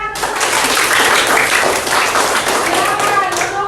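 A sixth-grade elementary classroom bursts into steady, loud applause, dense hand clapping from many pupils sustained throughout, with a few voices mixed in.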